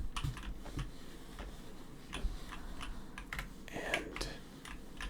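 Steady close-up typing on a custom-built, modded mechanical keyboard, clacky keystrokes in irregular runs with brief pauses, no talking.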